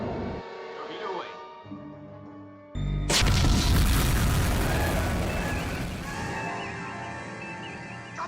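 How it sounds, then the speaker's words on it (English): Star Trek starship torpedo launch and explosion: a sudden loud boom bursts in after a quieter electronic stretch, then a sustained roaring blast slowly fades. "Torpedo away."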